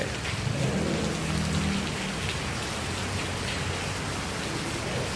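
A steady downpour of heavy rain hisses and patters on nearby surfaces without a break, loud and close, with a low rumbling undertone.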